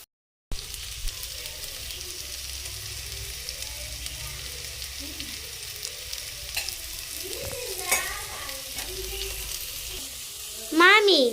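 Chopped chili and other ingredients for drumstick leaf egg bhurji fry in a pan, a steady soft sizzle with stirring scrapes, while a voice and birdlike chirps rise faintly near the end.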